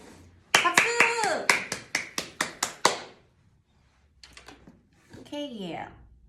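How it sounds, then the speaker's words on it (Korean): A small group claps at a birthday livestream, around ten sharp claps in quick rhythm, close and bright, followed by quieter rustling and a brief voice-like sound near the end. "박수!"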